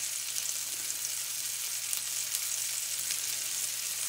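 Chicken seasoned with paprika browns in a pan, giving a steady, even sizzle of frying fat that holds at a constant level throughout with no talking.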